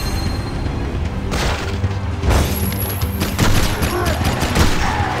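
Dense, sustained enemy gunfire and booming blasts in the video game Jak 3 run through the whole stretch, loud and continuous, with a brief spoken word over the barrage.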